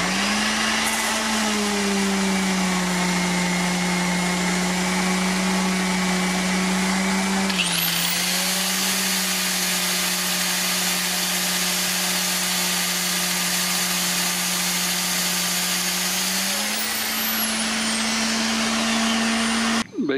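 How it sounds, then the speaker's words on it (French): A loud electric sander, powered through a 2300 W inverter from a 12 V LiFePO4 battery, whirs steadily, its pitch stepping up midway and holding before dropping back near the end, with no talking. "je vais utiliser la ponceuse"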